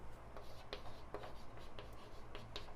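Chalk or marker writing on a board during a trigonometry lesson, faint quick scratching strokes and taps in an irregular rhythm, close but quiet.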